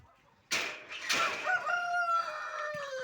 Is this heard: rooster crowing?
yes